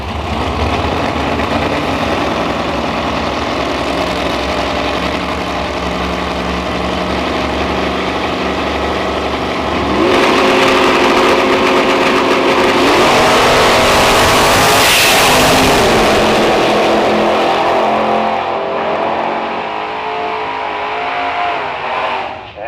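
Drag race cars, including a 1934 Chevy, run at a nostalgia drag racing event in St Thomas, Ontario: a loud, steady engine roar swells into a rising, revving surge of acceleration near the middle before fading away.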